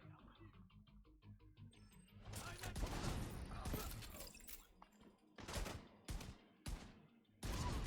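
Gunfire in the shooter video game The Division 2, bursts of rapid shots and impacts crackling loudly over a low ambient hum, with brief pauses between volleys.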